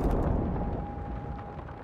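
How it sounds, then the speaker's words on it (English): Lightning strikes a ship in the Sea of Thieves video game, a loud rumbling blast that fades over about two seconds, heard alone without talk. "Lightning struck it."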